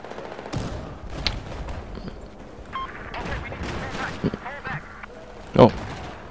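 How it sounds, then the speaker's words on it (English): Gunfire from an LAV armored vehicle in Battlefield 4, a scattered mix of game shots and impacts with a sharp louder burst near the end, heard amid busy in-game noise. "is that the LAV shooting at me?"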